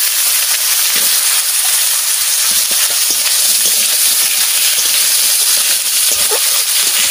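Cumin seeds, garlic and potatoes frying in hot mustard oil in a pan, a steady bright sizzle that stays loud and even throughout, with occasional faint crackles and stirring knocks beneath it.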